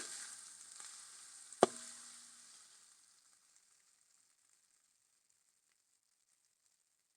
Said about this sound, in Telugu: జింజర్ గార్లిక్ పేస్ట్ అండి ఒక హాఫ్ స్పూన్ ఒక స్పూన్ వేసాను